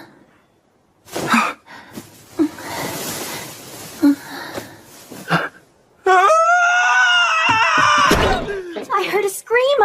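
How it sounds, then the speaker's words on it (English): A scream from an anime episode rings out loud and sustained in a harsh, high voice, preceded by short clattering thumps and bursts of speech-like sound. "I heard a scream."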